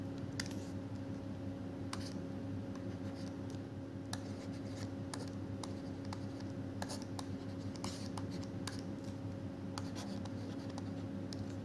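Notes are written by hand during a history lesson, with faint, steady pen scratching and scattered small taps over a constant low electrical hum.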